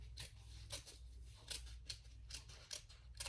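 Sharp scissors snip through fabric for a crossbody bag in a quick, regular series of crisp cuts, close and alone with no talking.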